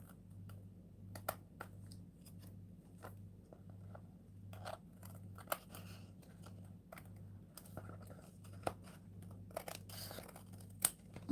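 Scissors snipping wet paper from an old calendar in a quiet room, a scattered run of soft close cuts and rustles over a low steady hum.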